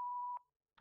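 A voicemail beep after an answering machine greeting, a single steady tone lasting about a third of a second, then a brief faint click-like blip after a short silence.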